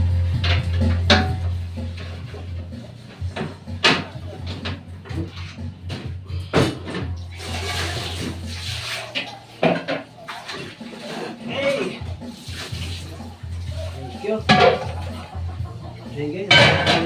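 Dishes washed by hand, with plates, pots and cutlery clinking and knocking together in a busy run near the listener, a voice talking over parts of it.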